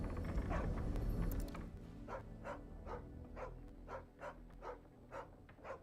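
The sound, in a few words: dog barking in the video game Final Fantasy XVI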